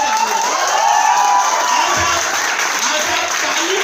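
A seminar audience claps and cheers together, a dense loud wash of applause with scattered shouts and whoops sustained across the whole moment.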